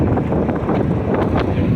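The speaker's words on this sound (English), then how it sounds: "It's quite windy right here" Steady wind roaring and buffeting a microphone at a drag strip during the Hot Rod Power Tour 2024, broadband and continuous throughout with no pauses.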